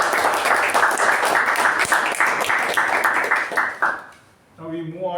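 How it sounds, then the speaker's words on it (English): Steady applause from a large crowd fills the room for several seconds, then fades out as a voice begins speaking. "let's give them both a very good round of applause."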